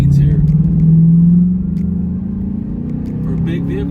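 2006 Hummer H2 SUT with a 6.0 Vortec V8 accelerating hard from a red light, a deep throaty engine drone heard from inside the cab that swells then eases, with someone talking over it.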